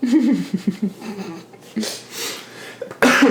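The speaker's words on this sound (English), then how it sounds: "Coughing episode." A podcast host coughs in a short burst of several harsh coughs, close and fairly loud, followed after a pause by another cough or throat sound; no speech over them.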